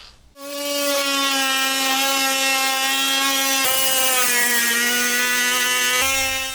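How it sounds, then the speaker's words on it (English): Oscillating multi-cutter sawing through old silicone sealant while removing an RV sink, a loud, steady high-pitched buzzing whine with strong harmonics that runs without a break and shifts pitch briefly near the end. "the multi-cutter."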